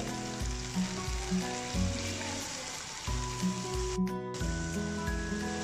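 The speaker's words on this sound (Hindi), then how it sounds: "दूध डालकर तेज़ आंच पर हम इसे पका लेंगे।" Chicken with potatoes and spinach simmers in milk over a high flame, giving a steady bubbling sizzle with soft, repeated low pops and stirring clatter, close and continuous with no talk.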